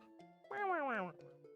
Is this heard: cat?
yes